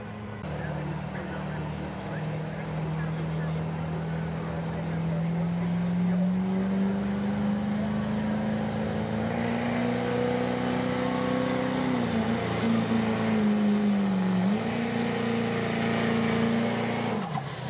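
A 2003 Chevrolet diesel 4-wheel-drive truck makes a hot rod diesel pull at a truck and tractor pull, its loud sustained roar climbing in pitch, dipping briefly, then surging again.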